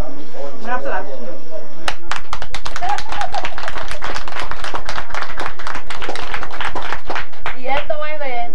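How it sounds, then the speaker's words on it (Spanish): A small family group at a Christmas gathering claps and applauds, a burst of quick, close hand claps starting sharply and running steadily to the end, with voices speaking before and after. "Un aplauso."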